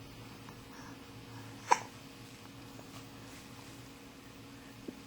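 A single sharp hiccup stands out at close range against a quiet room, with a smaller catch following a few seconds later.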